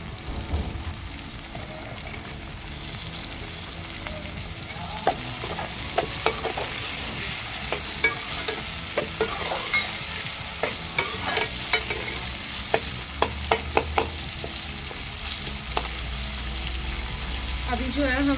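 Tomatoes and green peas fry over a clay stove, giving a steady close sizzle with scattered crackles and stirring clicks throughout, a burst of sharper ticks toward the end, and faint speech at moments.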